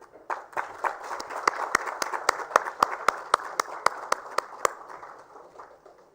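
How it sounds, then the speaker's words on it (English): Audience at a sanitation awards ceremony applauds its winners, with loud rhythmic unison claps beating steadily over dense crowd clapping that builds, holds, then tapers off. "Big round of applause."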